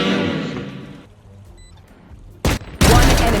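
Gunfire fired through a smoke screen in the tactical shooter Valorant, with sharp, loud bursts near the end after a quieter stretch of game sound and music.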